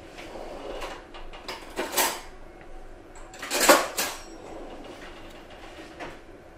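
A knife cuts into a slow-cooked, very tender leg of lamb prepared Périgord style, giving two soft scraping bursts with light clinks of cutlery on a dish against a quiet kitchen background.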